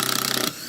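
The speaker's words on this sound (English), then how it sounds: "Now I'm going to take this screw out" A power drill spins out a screw from a surface-mounted diving board installation on a pool deck, a loud, close, rattling whir for half a second that then cuts off abruptly.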